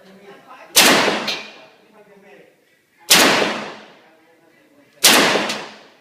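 Three loud, sharp AK-47 rifle shots fired one at a time at a Cambodian military base, each with a long echoing tail, a brief voice murmuring between them.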